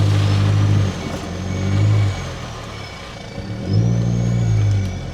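A 4WD vehicle crawls along a track through a pine forest, its engine swelling and easing in low-pitched revving bursts, close and loud inside the cabin, with no talking.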